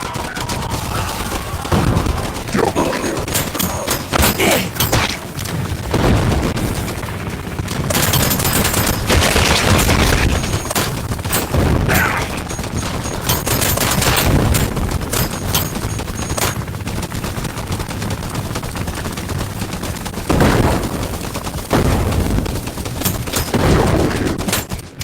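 Covering gunfire in the VR shooter Guns 'n' Stories: Bulletproof, sustained rapid bursts of loud, close shots and machine-gun fire rattling almost without pause for over twenty seconds, with occasional heavier booms.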